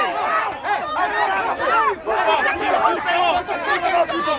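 An angry crowd in a played video chatters and shouts over one another, a dense mid-loud babble of many agitated voices with rising yells throughout.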